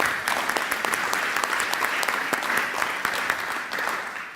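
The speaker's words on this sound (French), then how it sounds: "on l'applaudit." Lecture-hall audience at a public talk on algorithms and power claps warmly, a sustained, fairly loud round of applause with individual sharp claps poking through, no speech on top.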